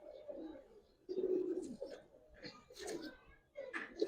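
Giribaz pigeons, including an old-breed male, coo in repeated soft throaty bursts up close, alone with no talk over them.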